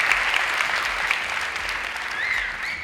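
A studio audience at a Pakistani television quiz show, a Diamond Jubilee special, breaks into loud, sustained applause, a dense, even clatter of many clapping hands that carries on without a break.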